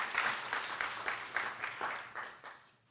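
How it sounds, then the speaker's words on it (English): A small audience at the SLATE YouthBuild St Louis City graduation applauds a director, a handful of rhythmic claps in a loose beat, fairly faint and tapering off. "Let's give Director McGlown a round of applause."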